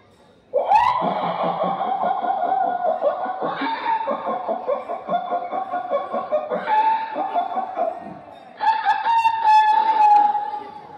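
A mimicry artist imitates a rooster and hens by voice, giving long crowing calls and clucking hen cries in several loud phrases, near and clear, with no other talk.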